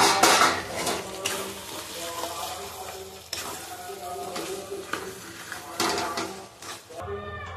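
Mutton stir-fried with fried new potatoes in a pot, with close metallic clinks and scrapes of a spoon against the vessel over a faint sizzle, in irregular bursts without talk.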